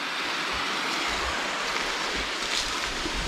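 A small waterfall roughly three metres high at low water level in the Huasteca Potosina near Tamasopo, a steady rushing white-noise flow heard close and continuous throughout.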